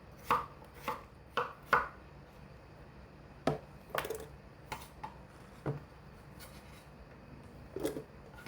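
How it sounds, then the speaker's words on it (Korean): A knife dices potatoes into thin cubes on a cutting board with sharp, distinct chops, in quick clusters followed by a few slower, isolated strikes, close and clear. "잘 갈아지게 얇게 깍둑 썰어서"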